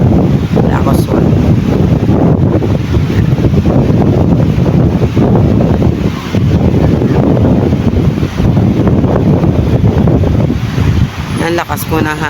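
Strong wind buffets the microphone aboard a boat at sea, a loud continuous roar with gusty rumble and water noise throughout, with muffled voices underneath.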